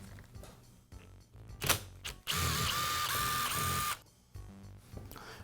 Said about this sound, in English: next I'll remove the screws that secure the gearbox to the motor housing